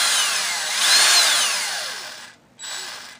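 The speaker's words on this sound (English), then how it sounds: "My drill's in the clockwise rotation" A power drill spins in clockwise rotation, twisting wire to wind a vape coil. The motor whines loudly and close, rises and falls in pitch, stops briefly, then starts up again.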